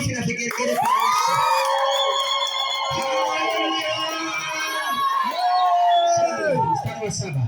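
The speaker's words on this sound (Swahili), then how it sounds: "Kama unanipenda, piga makofi na vigelegele kwa Yesu." A church congregation cheers and ululates loudly, long high trilling calls rising over a dense crowd, sustained and close for the whole stretch.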